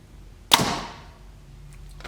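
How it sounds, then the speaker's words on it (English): A 440-grain arrow looses from a PSE Xpedite NXT bow with one sharp, loud snap and smacks into a bag target, the hit ringing briefly before fading into faint sounds. "that arrow literally just went through that bag target and hit the wall"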